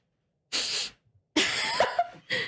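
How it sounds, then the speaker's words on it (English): A woman's sniffle, a short breathy nasal intake heard close and alone, followed after a pause by a longer, rougher sniff with a voiced catch, then the start of another. "Sniffle sound effect."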